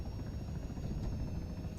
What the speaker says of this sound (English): that little bush just where my helicopter, just where that heads up is now, is where I'm trying to put the helicopter down